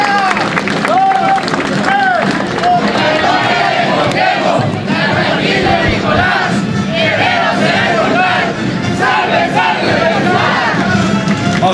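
Crowd at a commemorative street parade cheering, shouting and clapping for a passing school contingent, loud and continuous with overlapping voices and an announcer talking over the din throughout.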